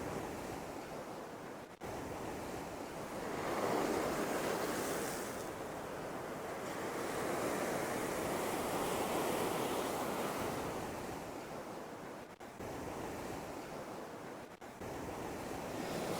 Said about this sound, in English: You can see that sea is still, it's starting to creep up quite a bit actually.